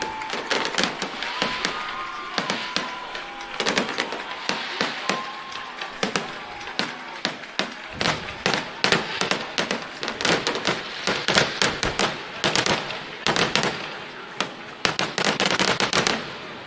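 Fireworks bursting over a high school football stadium at a season-opening kickoff game, a long run of sharp cracks and booming pops in quick irregular bursts, loud and close.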